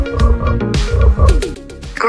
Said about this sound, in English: Green frogs.